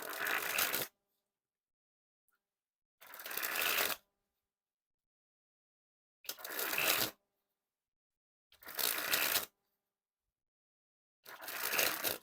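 Red Bicycle Cyclist playing cards sprung from hand to hand in five separate bursts, each a quick close riffling flutter of cards lasting about a second, separated by silence.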